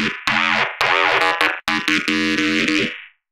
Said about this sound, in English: now we can add some more distortion, yes!